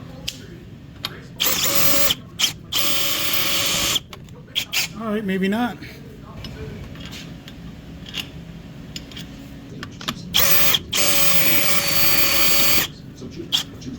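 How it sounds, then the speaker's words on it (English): Power drill boring into a part from a 1969 John Deere 110 patio tractor, heard as loud, close bursts of whirring and grinding in several runs with pauses between them, and someone speaking briefly between bursts. "I'm going to drill this out and I'm going to put seals in here."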